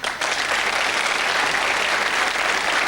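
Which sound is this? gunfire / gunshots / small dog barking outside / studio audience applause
studio audience applause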